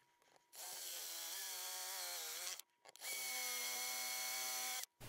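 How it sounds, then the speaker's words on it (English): A power drill whirs steadily through wood in two sustained runs, enlarging holes in an Epiphone Junior guitar headstock, its pitch rising as it bites and stopping abruptly between passes. "let's go ahead and enlarge these holes with this drill"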